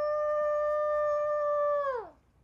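A person imitates a wolf howl, holding one sustained, steady voiced tone for about two seconds before it slides downward and fades, loud and close with no other sound.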